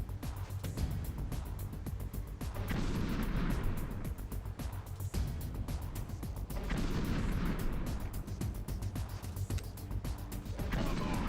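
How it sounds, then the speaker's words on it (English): Grenade blasts and gunfire in the video game Metal Gear Solid The Twin Snakes, with heavy repeated booms and rumbling bursts over a dense, continuous wash of in-game noise, loud and close throughout. "Are those grenades or are those stun grenades?"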